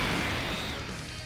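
Glass shatters in a mobile game's summon animation in Dokkan Battle, a single bright, crashing burst that fades quickly over about a second.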